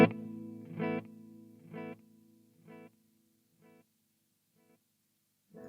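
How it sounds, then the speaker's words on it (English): Guitar through an MG50CFX amplifier's hi-fi delay: one strummed chord followed by clean repeats that fade steadily, roughly five echoes trailing into near silence before a new chord starts. "So this is an idea of the hi-fi sound."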